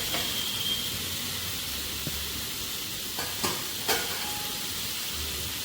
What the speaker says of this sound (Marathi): आता आपण ही भेंडी गॅसवर ठेवूया